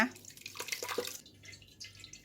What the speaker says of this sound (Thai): นี่นะคะเราก็จะกองเอาแต่น้ำนะคะ กากเราไม่ใช้นะ